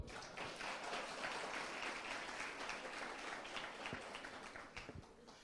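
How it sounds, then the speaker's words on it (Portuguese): Applause from an audience at a lecture about the Ark of the Covenant rolls on steadily, then thins toward the end with a few separate claps standing out, fairly quiet overall with no talking. "Se você está me entendendo, pode aplaudir."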